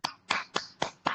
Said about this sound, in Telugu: ప్రతి ఒక్కరు ఒకసారి క్లాప్స్ ఇవ్వండి